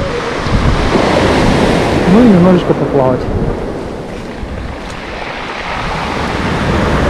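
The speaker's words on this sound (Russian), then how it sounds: "Я попытаюсь пойти поймать красивые волны" Loud Black Sea surf rolls and crashes continuously on the shore at Lazarevskoye's central embankment, with wind buffeting the microphone and a few brief spoken words midway.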